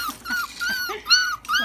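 F1b doodle puppies almost five weeks old whimper and cry in a continuous run of high, wavering whines and yelps, close by and fairly loud, with no talking.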